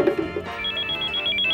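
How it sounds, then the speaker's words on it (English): A cell phone ringtone sounds in a studio during a blender demonstration: a loud, close electronic melody of repeating bright tones that carries on steadily with no talking over it. "Whose cell phone? I warned you, no cell phones."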